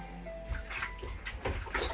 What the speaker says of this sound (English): Just going to wash my hands there